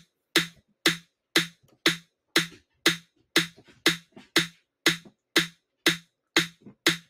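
Snare drum quarter notes programmed in Song Maker, fourteen crisp, evenly spaced hits with sharp attacks and quick decays, playing alone and steadily.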